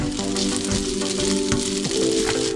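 Fried rice with kimchi sizzling steadily in a hot pan, a close continuous crackle with faint scraping of stirring underneath and a low background hum.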